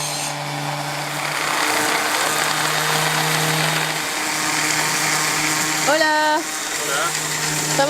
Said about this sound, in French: Je ponce le métal à nu pour que la peinture y pénètre bien et reste sur le métal.